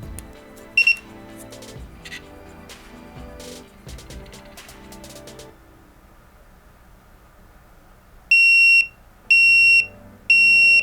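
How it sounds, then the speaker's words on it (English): Prosport 52mm JDM volt gauge sounding its low-voltage warning while powered from a 9-volt battery: three loud, evenly spaced electronic beeps near the end, after quieter handling clicks and rustling. "is warning me that the voltage is too low"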